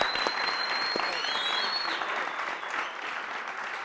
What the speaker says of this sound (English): I think we can, a round of applause